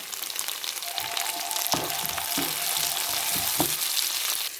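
Bell peppers in red and green frying in a pan for prawn capsicum rice, a steady close sizzle broken by a few stirring scrapes and knocks, with no voices.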